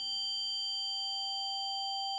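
A Hydrasynth FM synthesizer holds a steady sine-based tone with a sine wave at the 5th harmonic, a pure sustained pitch with bright upper partials, clean and alone after a brief low murmur at the start.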